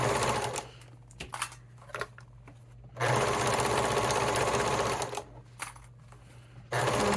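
A sewing machine stitches a Christmas stocking in bursts, with steady mechanical whirring runs separated by short pauses, close by and moderately loud.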